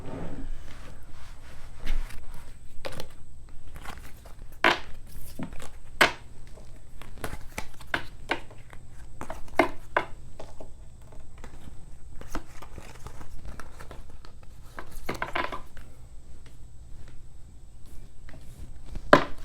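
Tarot cards are shuffled by hand in a quiet room, a run of soft papery riffles and taps coming in irregular bursts, close and fairly faint with no talking.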